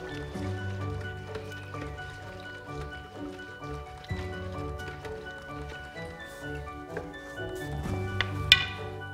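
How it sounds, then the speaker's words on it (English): Zinc sulfate is stirred into water in a bucket to make a livestock footbath solution: soft sloshing and swirling of liquid with faint knocks and scrapes against the bucket, quiet and close. "We'll stir it up so that it dissolves."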